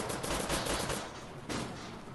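Rapid bursts of gunfire in the game Rebels Clash crackle continuously, like automatic weapons firing in quick succession, loud and close with a sharp burst toward the end.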